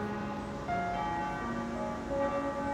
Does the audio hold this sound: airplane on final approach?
no